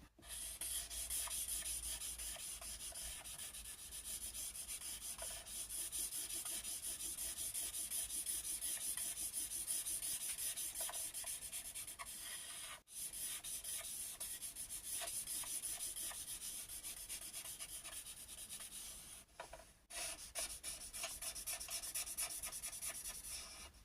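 Red paint with an iridescent medium is spread across a surface with steady, close scraping and rubbing strokes that continue almost without break, interrupted only by two brief pauses, with no voices.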